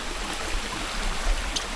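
Stream and waterfall along a forest trail in Saraburi: a steady broadband rush of flowing water, constant and moderately loud, with no voices.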